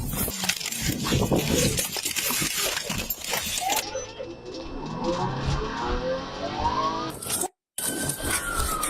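A suspect's car speeds away from a traffic stop with an officer partly inside, its engine revving hard and climbing in pitch, loud and close, with a brief dropout near the end.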